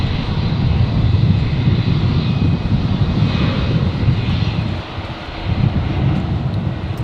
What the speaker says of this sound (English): Alliance Airlines 366 coming in from Townsville here on 19 right.